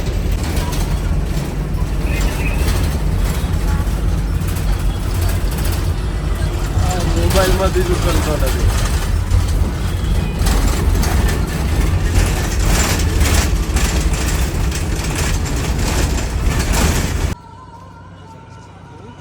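Steady low rumble of a bus engine on a road journey from Diu to Junagadh, continuous and fairly loud with road noise, a voice speaking over it, then cutting to quieter ambience near the end.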